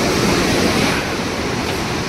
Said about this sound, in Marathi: ही जी धार पडताना दिसते पूर्ण गरम पाण्याची, आणि काही गरम पाणी या नदीमध्ये मिक्स होत आहे.